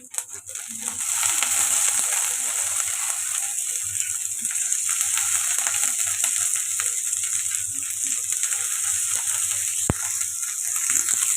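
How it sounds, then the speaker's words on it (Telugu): Green peas frying in a pan with ginger-garlic paste for matar paneer masala, a steady bright sizzle running throughout with occasional stirring scrapes and clicks. "ఇది మంచిగా ఫ్రై చేసుకుందాం"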